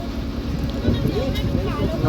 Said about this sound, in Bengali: নৌকাটা মোহনার দিকে যাচ্ছে।